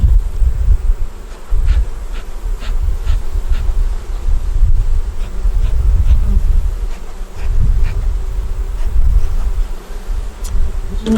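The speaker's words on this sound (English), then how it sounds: "There's a lot of bees." Honey bees drone steadily in an opened hive where an old queen has been laying and the brood box is nearly honey-bound. A dense, continuous buzz stays loud and close throughout, with no talking.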